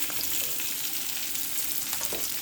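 Small shallots and garlic fry in hot oil with a steady, close crackling sizzle, punctuated by light stirring scrapes, and no voices over it.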